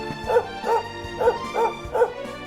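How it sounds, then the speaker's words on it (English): A dog character in Dragon Quest XI barks during a battle, five evenly spaced bow-wow yips in quick succession, clear and close with no talking. "Sandy barked."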